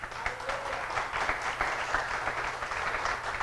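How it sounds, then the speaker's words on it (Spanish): A Sunday church congregation breaks into applause, a fairly soft, even wash of many clapping hands heard from some distance, steady throughout with no speech on top. "Denle un aplauso al Señor"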